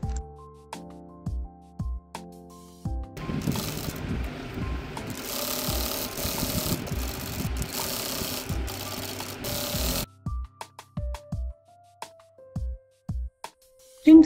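A sewing machine stitches the sides of a fabric crossbody bag: a few mechanical clicks, then a fast continuous run of stitching for about seven seconds, then scattered clicks as it stops.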